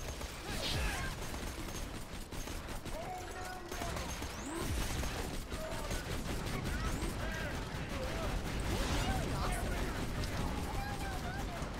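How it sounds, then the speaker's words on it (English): Gunfire from shooting in Borderlands 2, a dense stream of game weapon shots and mechanical clatter that runs steadily throughout, mixed with a busy game soundscape, with voices talking over it. "Shooting everything!"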